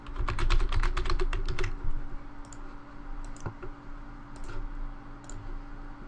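Rapid typing on a computer keyboard, a dense run of close clicks for about two seconds, then sparse isolated key taps over a steady low hum.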